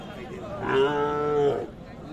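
A single long, low moo from a cow nearby, rising and sustained for about a second before fading, with faint background noise.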